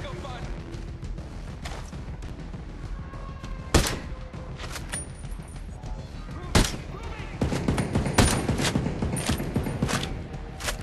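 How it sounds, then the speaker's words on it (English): Gunfire crackles through a firefight in the video game Ghost Recon Breakpoint, with sharp loud shots at irregular intervals over steady battle noise, some bursts denser and closer, while someone talks over the action. "Getting shot again."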